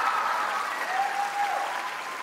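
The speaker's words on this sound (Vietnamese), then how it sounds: "cùng dành một tràng pháo tay cho cô Ma Cà Rồng vô cùng đẹp trai." A studio audience at a televised Vietnamese dance competition claps steadily, a dense sustained round of applause heard near and clear.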